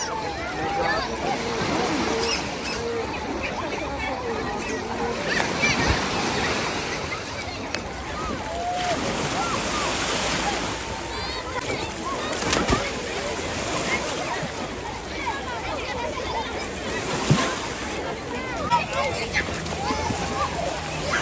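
Sea waves wash steadily along the coast of northern Morocco near Tangier and Tetouan, a continuous broad rush of surf with brief louder swells, while voices talk over the water throughout.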